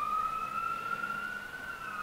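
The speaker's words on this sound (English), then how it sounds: "Siren!" A distant emergency vehicle siren wails steadily outside, a faint continuous tone with slow pitch drift, heard alone without talk.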